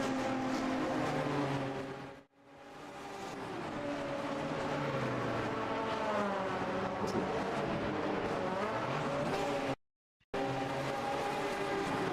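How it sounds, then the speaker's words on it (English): Race car engines in a sim racing game replay of a virtual sportscar championship round at Mugello, a loud continuous roar with shifting harmonic pitch as cars accelerate, cut by two brief silent gaps, with no talk. "you saw the exhaust spitting flame as Petravki fights for control"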